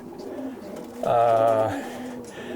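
Racing pigeons in a loft coo once in a close, resonant, steady call lasting about half a second, with quieter loft sounds before and after.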